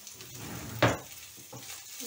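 Pork fat (salo) frying in a pan, a steady close sizzle with a brief sharp crackle partway through.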